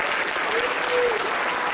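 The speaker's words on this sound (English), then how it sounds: "Please give them a round of applause" An audience applauds the speakers at a performance talk, a dense, steady wash of clapping throughout with a faint voice underneath.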